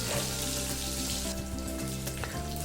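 Fish fries in hot oil, giving a brief, steady sizzling hiss at moderate volume with a small clatter at the very end.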